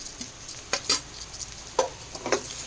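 Ginger-garlic paste being stirred into onions frying in a pan, with a few scattered scrapes and clinks of a spoon against metal over a faint background sizzle, with no talking.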